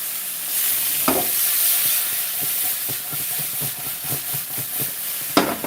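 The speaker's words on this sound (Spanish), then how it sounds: "Vamos a darle una salcochada a la cebolla." Onion sizzling in a frying pan for potato gorditas: a continuous close hiss broken by repeated scraping stirs and a couple of sharper clatters.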